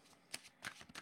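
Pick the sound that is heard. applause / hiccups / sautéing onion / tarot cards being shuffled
tarot cards being shuffled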